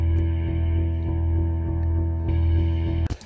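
Cinematic guitar synth patch with a complex, layered tone and a steady pulsing rhythm, sustained and loud throughout before cutting off abruptly near the end.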